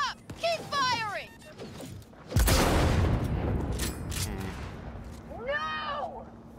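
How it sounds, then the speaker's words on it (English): Heavy gunfire rips through a Cyberpunk 2077 firefight, a loud sustained burst of shots and impacts after brief voices and sci-fi effects, with more shouting and chirping tones near the end. "Don't fucking stop! Keep firing!"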